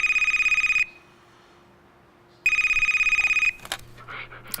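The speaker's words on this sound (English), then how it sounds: "our office got a phone call." An office telephone rings with an electronic trilling bell, two loud bursts separated by a pause of about a second and a half, then a clatter as the handset is picked up.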